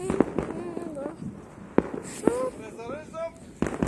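New Year fireworks shots go off in a rapid series of sharp bangs and whistles outdoors, some loud and close, while people talk over them.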